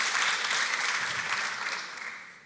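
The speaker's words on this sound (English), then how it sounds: "Round of applause." Round of applause from an audience at a panel conversation on human genetic engineering ethics, a dense wash of clapping that holds steady, then tapers off toward the end, moderately distant.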